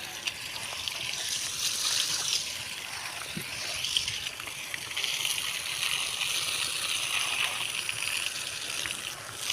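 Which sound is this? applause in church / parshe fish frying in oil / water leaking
water leaking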